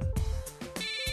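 A phone ringtone chimes in a steady electronic pattern, close and fairly loud, during a Marathi TV serial scene in which a director's call is about to be cut off.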